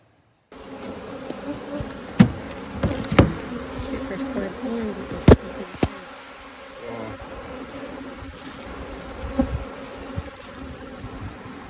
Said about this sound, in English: We're checking on the bees